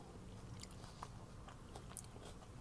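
Close, quiet crunchy chewing of cheesy taco black bean macaroni with green onions, soft irregular crackles and bites over a faint background hiss, with no talking.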